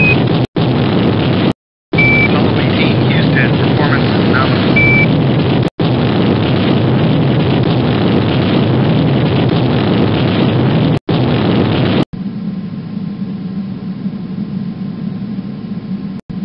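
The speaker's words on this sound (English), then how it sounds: "we show good engine burn" A spacecraft engine fires for a course correction burn in the Apollo 18 video game, a loud, steady, close roar of broadband rushing noise with a few abrupt cutouts, ending in a lower, quieter hum.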